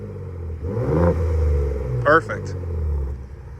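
A Gen3 Ford F-150 Raptor fitted with an AWE catback exhaust in quiet mode gives two deep, subdued revs that rise and fall under a steady low rumble, with someone speaking briefly near the end.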